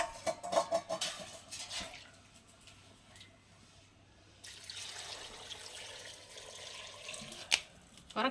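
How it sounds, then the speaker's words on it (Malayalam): Water pours and splashes into a pot of tapioca, faint and uneven, with a few clattering knocks and quiet outdoor background. "നമുക്ക് വെള്ളം ചേർത്ത് കൊടുക്കാവേ"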